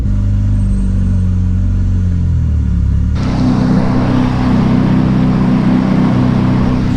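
A Mazda RX-7 FD rotary engine idles after sitting in long storage, a loud, close rumbling drone that shifts to a rougher, busier note partway through.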